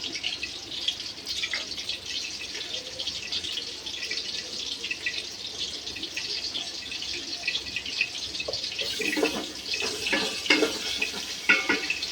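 Greens and potato pieces fry in hot refined oil in a pot as a leafy chorchori is cooked, giving a steady sizzle with stirring and spattering that grows busier toward the end.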